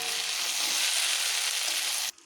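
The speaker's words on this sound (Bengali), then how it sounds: "এইভাবে খুব ভালোভাবে কষিয়ে নিতে হবে, মানে পুরো রান্নাটা এইভাবে কষিয়ে কষিয়েই হবে।" Pointed gourd vegetables are stir-fried in a pan, a loud, continuous close sizzle that holds steady and then cuts off abruptly near the end.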